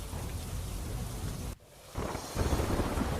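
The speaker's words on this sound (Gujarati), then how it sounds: "જિલ્લામાં ક્યાંક ધોધમાર તો ક્યાંક ધીમી ધારે વરસાદ પડી રહ્યો છે" Heavy monsoon rain pours in Gujarat, a dense steady hiss with a low thunder rumble, dropping briefly to a quieter patch midway before the loud downpour resumes. No voices.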